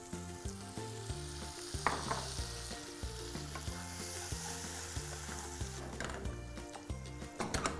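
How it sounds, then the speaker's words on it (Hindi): Diced paneer is stirred into a tomato-based butter masala gravy, and a soft, continuous sizzle and stirring run under background music with a rhythmic melody. "इसमें हम डालेंगे diced paneer, lightly mix it."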